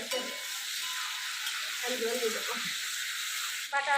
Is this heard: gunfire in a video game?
no